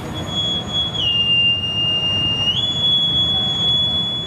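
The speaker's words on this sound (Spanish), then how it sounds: "Con el toque del silbato, pito marinero clásico, símbolo de la llamada a la guardia" A boatswain's pipe sounds one long, shrill, sustained whistle that dips to a lower pitch midway, then rises back up and holds, loud over faint background noise.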